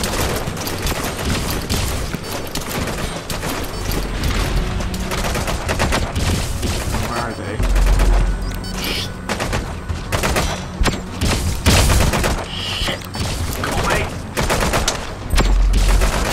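Dense, sustained gunfire in Metal Gear Solid 5: The Phantom Pain, rapid overlapping shots and bursts with heavy thumps, loud and continuous with brief speech underneath.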